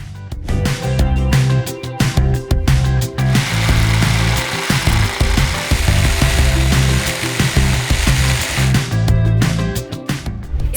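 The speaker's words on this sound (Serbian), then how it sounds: "testerišemo donje letve Parkside 20V sabljastom testerom" A Parkside 20V cordless reciprocating saw cuts through wooden pallet slats, loud and close, with a rapid chattering blade stroke and a whining motor that rise and fall as the cut progresses.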